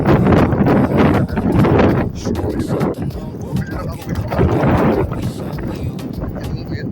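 Strong wind roars and buffets the microphone outdoors during a snowstorm in Hamburg, loud gusts rising and falling over several seconds while a person talks through the noise.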